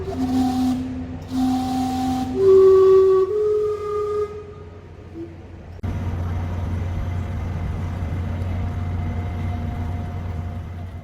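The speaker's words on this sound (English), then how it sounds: "home of the famous Gastown steam clock, and we are waiting for it to go off" Gastown steam clock in Vancouver sounds its whistle notes in the open street: several loud tonal toots and sustained whistles over the first five seconds, then a steady hiss of escaping steam with street noise and a crowd around.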